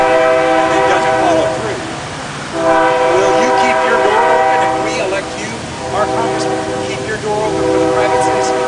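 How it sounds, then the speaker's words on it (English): Train passing by close, with loud repeated horn blasts and rumbling wheels sustained throughout, masking background voices at a press conference. "Don't let the train go by."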